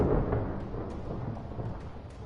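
Thunder in a video game, a low rolling rumble that starts strong and slowly fades, deep and fairly loud, with faint electronic tones above it and no voices.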